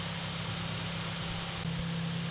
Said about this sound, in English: the car has been idling for probably like 4 or 5 minutes now.